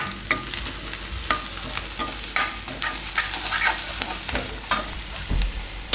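Turmeric, coriander-cumin powder and red chilli being stirred in oil in a frying pan for aloo uttapam: a steady close sizzle with repeated spoon scrapes and taps throughout, no talking.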